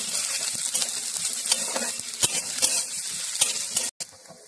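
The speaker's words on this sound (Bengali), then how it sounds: "হালকা তেলেতে নাড়া হয়ে গেলে সবজিগুলো দিয়ে আমি আবার একটু নেড়ে নেব" Vegetables sizzle steadily in a little oil while being stirred, with scraping strokes and light clinks throughout, then a brief break near the end before the frying resumes.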